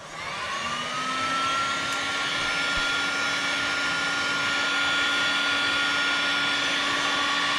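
A heat gun blows hot air onto old fiberglass on a koi pond, a loud, steady whine that ramps up at the start and then holds an even roar with a high tonal hum throughout.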